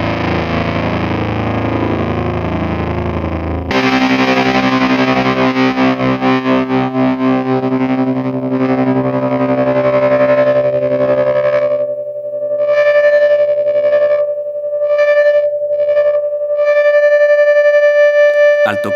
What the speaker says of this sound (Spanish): Al tocar, podemos elegir usar el efecto como trémolo o fuzz individualmente, o seleccionar ambos para aumentar la posibilidad de distorsión y expresión.